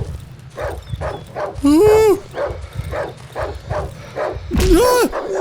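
A dog in the horror survival video game Darkwood gives two sharp, high yelping barks over a low rumbling game soundscape, with someone talking through the clip.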